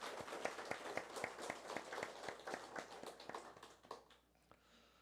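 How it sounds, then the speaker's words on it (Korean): A church congregation applauds during a worship service, fairly soft clapping with distinct, rhythmic, closely spaced claps that fade out near the end. "감사드리고 우리 찬양 받으신 하나님께 감사와 영광의 박수 올리겠습니다."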